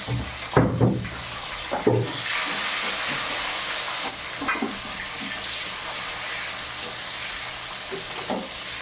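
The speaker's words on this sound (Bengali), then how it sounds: "এই টমেটোগুলো ভালো করে ভাজা ভাজা করে নিতে হয়।" Tomatoes and green chillies fry quietly in a pan for a bhola fish curry, a soft steady sizzle with a few utensil knocks early on.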